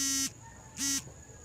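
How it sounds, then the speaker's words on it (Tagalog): Electronic alarm beeping outdoors near a dam while fishing, two short high-pitched beeps about half a second apart over faint background noise. "sabi ng alarm. I-off mo."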